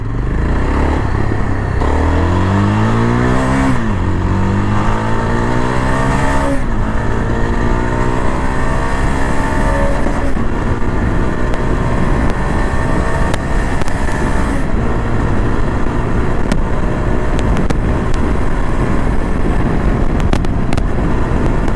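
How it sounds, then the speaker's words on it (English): A Yezdi Adventure motorcycle engine is pulled hard at wide open throttle on a highway, its loud revving note climbing through gears and then holding a steady, continuous roar. "So that's how the Yezdi engine reacts when you wide open the throttle."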